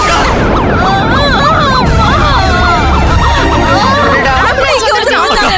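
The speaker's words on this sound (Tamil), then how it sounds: "ஆம்புலன்ஸ் வந்துருச்சு" An ambulance siren wails loudly and close by, its rising and falling tone repeating steadily, while voices talk over it in a tense scene.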